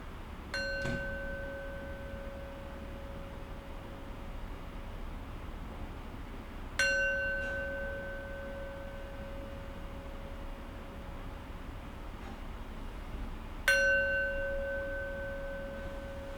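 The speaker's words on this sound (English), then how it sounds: "We'll close practice with 3 rings of the bell." A meditation bell struck three times at a mindfulness practice, each clear ring sounding alone and fading slowly into quiet before the next, spaced evenly about seven seconds apart.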